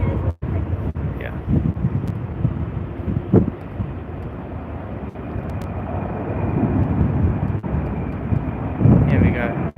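An airplane passing at an airport during planespotting, a broad steady roar with buffeting wind noise against the microphone, loud and continuous with a few sharp knocks.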